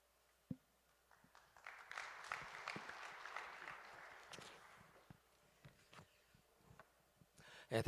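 A church congregation at a Korean prayer meeting claps to welcome a pastor; the applause is fairly faint and distant, swelling briefly then thinning to scattered individual claps.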